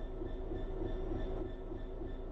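In Train Sim World 3, a simulated train pulls away with a steady low rumble and a constant mechanical hum, even and moderately loud, with no speech.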